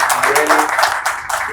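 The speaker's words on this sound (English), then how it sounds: "can we give our panelists a round of applause?" Audience applauding panelists at the close of a panel discussion on digital public infrastructure and private innovation, a steady wash of clapping with some voices mixed in, fairly loud and continuous.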